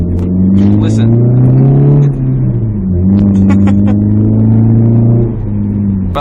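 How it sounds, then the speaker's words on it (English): A straight-piped naturally aspirated Chrysler PT Cruiser growls loudly and close through a raw exhaust. The engine pitch rises and falls across gear changes, with crackles and pops breaking through as the throttle lifts. "Between first and second gear shifts, it actually, you hear exhaust crackles even then."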